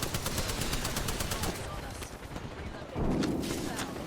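Rapid bursts of automatic gunfire ring out in an Apex Legends firefight, dense and continuous across the clip with a heavier stretch near the end, while a player talks over the shooting.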